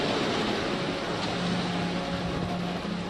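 Large waves over 1.5 meters high churn in a wave tank, giving a steady broadband rush of surging water with a constant low rumble throughout, with no voices.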